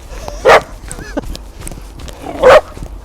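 A frisky dog barks twice outdoors in about -10 degree cold, two loud, close barks spaced about two seconds apart over quiet background noise.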